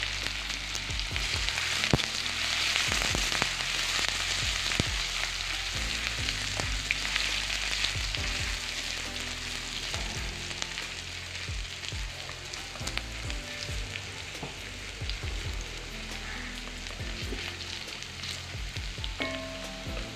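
Crushed ginger and garlic fry in oil in a pan, giving a steady, close sizzle with scattered pops and stirring clatter over a low hum.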